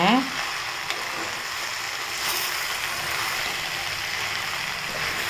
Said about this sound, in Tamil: நமக்கு வெண்டைக்காய் நல்லா வதங்கிட்டுருக்குங்க